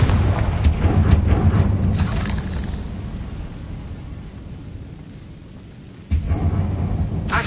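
A Confringo fire spell blast in Hogwarts Legacy, a deep rumbling boom that swells and slowly fades over several seconds, then a second loud low impact bursts in near the end.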